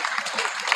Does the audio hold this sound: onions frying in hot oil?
no